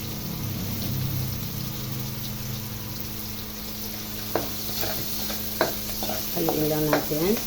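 Young ginger and garlic being stirred in a pan, with a steady frying sizzle and a run of scraping spoon strokes that pick up and grow louder toward the end.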